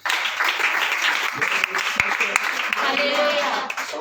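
A congregation at a fasting prayer meeting claps hands together in a dense, continuous burst of applause, with a leader's voice talking over it.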